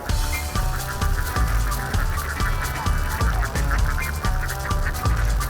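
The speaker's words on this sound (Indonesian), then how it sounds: "Bebek memang memiliki sifat bergerombol, jadi dia tidak pernah pisah dari rombongannya." A flock of Tegal ducks being herded home along the Tegal coast, their quacking dense and continuous, with overlapping calls pulsing rhythmically and fairly close, no voices heard.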